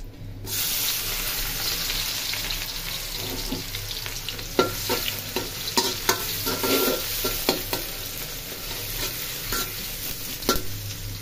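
Onion sizzles in hot oil in a wok as pilaf is cooked. A steady frying hiss carries repeated sharp scrapes and knocks from stirring, close and loud, with no talking.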